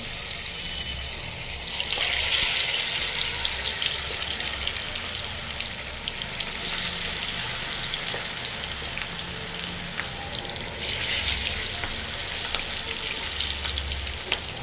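Chicken leg pieces frying in hot oil produce a loud, dense, continuous sizzle and crackle close up, swelling in intensity at moments with brief bursts of sharper spattering.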